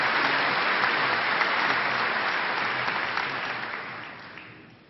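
A high school commencement audience applauds a valedictorian receiving his medallion, a dense, steady wash of many hands clapping that holds strong and then slowly fades toward the end.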